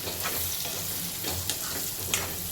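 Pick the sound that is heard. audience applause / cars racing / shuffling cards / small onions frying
small onions frying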